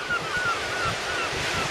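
Surf washing onto a beach on a bright day, a steady broadband rush with soft swells, wind buffeting the microphone throughout.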